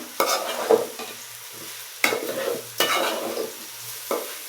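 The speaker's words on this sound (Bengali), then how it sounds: "তো এখন এটা হচ্ছে ভাজা ভাজা হওয়া অবধি পর্যন্ত খুব নাড়তে হবে।" Rice frying with green chilies is stirred in a pot, giving a soft sizzle under four sharp scraping strokes of the spoon at irregular intervals, with no voices.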